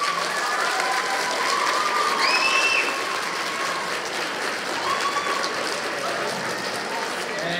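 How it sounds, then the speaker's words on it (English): At a fifth grade promotion ceremony, an audience breaks into dense, steady applause that swells slightly midway, with a few scattered whistles and a soft crowd murmur underneath. "You have to be quiet because it's their turn to applaud for you"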